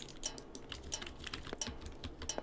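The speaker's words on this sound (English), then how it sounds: "pressing every button on my keyboard again." Computer keyboard keys pressed rapidly during a horror video game, an irregular run of close, light clicks and taps with no talking.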